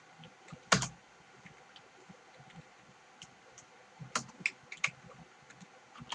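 Java code is typed on a computer keyboard in short, sparse bursts of quiet, close key clicks with a sharper tap early on and a quick cluster of keystrokes near the end.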